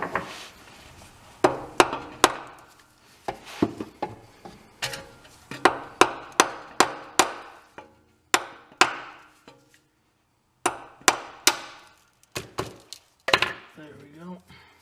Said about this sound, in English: I got a little sledgehammer and I'm gonna give it a few whacks.